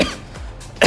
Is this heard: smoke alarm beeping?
no